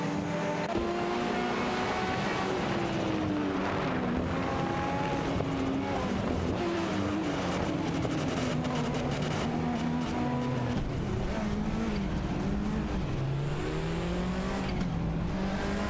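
Engines of a Ferrari 288 GTO, a Ford Sierra RS 500 and other cars in a video game race roar loud and steady throughout, pitches rising and falling with gear changes as they battle closely for position.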